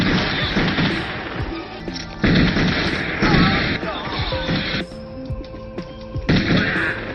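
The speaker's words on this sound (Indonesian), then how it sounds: "adegan tembak-tembakan ala mafia pun tersaji dengan epiknya" Gunfire in a mafia-style shootout movie scene: a rapid series of loud shots and crashing impacts over dramatic music, with brief gaps between bursts.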